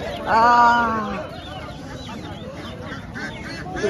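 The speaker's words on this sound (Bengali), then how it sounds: "বড় বড় হাঁস, প্রচুর হাঁস মুরগি এখানে" A loud, close quack from a duck at a busy market opens, followed by quieter clucking and honking from ducks and chickens amid general crowd bustle.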